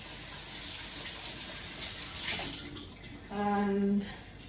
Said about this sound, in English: I'm going to wash this cup